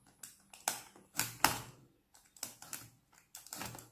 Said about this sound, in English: We're going to start by cutting this seal right here.